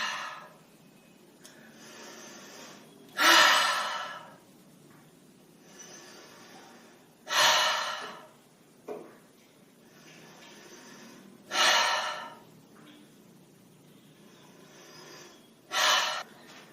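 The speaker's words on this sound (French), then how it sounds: "Et on prend 5 profondes inspire" Slow deep breathing during an evening yoga session: four or five loud exhales through the mouth at regular intervals of about four seconds, each preceded by a quieter inhale, close and alone.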